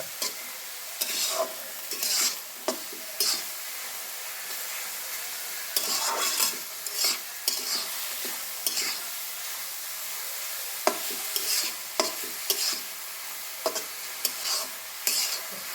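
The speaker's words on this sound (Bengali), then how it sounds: "ডিম দিয়ে এটা ভাজি হয়ে যাবে" Cabbage fries with egg in a pan, a steady broadband sizzle with repeated sharp scrapes and clacks of a utensil stirring throughout, close and fairly loud, no voices.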